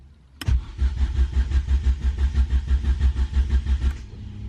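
A Ford Focus RS Mk1, parked in a garage, is started with the key: a sharp click, then a steady rhythmic whirr of the starter motor cranking for about three and a half seconds, loud and close.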